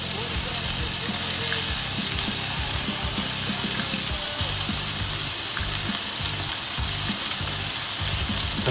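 Bacon fries on a hot surface with a loud, dense, continuous sizzle and a steady crackle under it, close and unbroken throughout.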